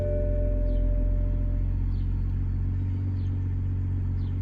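A Toyota Supra idles with a low, steady rumble after being started and put in reverse, a close, even engine drone with faint intermittent chirps and no talking.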